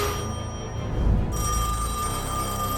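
A telephone rings on a competition set with hundreds of players, a steady electronic bell tone repeating clearly at moderate loudness with no voices over it.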